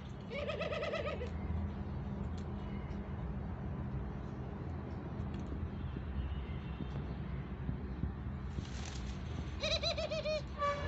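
Pet doves give a soft cooing call, with brief bursts of it standing out at the start and near the end over a constant low background rumble.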